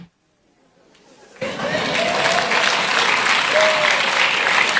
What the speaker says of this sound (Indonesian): Jangan tepuk tangan.